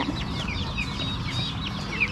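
Chickens on a farm cluck and chatter continuously, several birds close by making short, overlapping calls over steady outdoor background noise.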